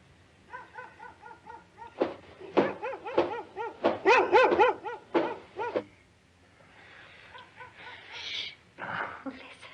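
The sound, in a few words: dog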